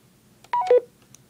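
Two short electronic beeps from a PAC Mate device as it shuts off, a quick higher tone followed at once by a lower one, clear and isolated against near silence.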